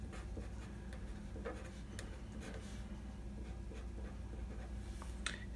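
Math working being written out by hand on paper, quick scratchy pen strokes with small taps and pauses, close and fairly quiet with no voices.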